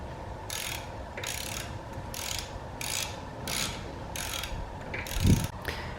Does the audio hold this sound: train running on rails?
no